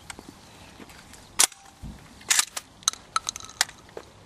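Sharp bursts of a new 20 gauge shotgun with a stiff spring fired at clay targets at a shooting school, several spaced reports with softer clicks and handling noises between them.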